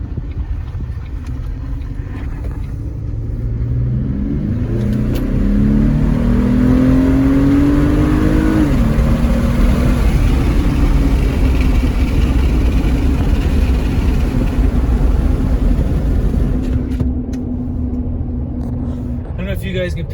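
A Chevy Colorado ZR2 pickup fitted with a GM Performance cold air intake revs up and pulls away, a loud deep engine roar rising in pitch then holding steady, with someone talking over it.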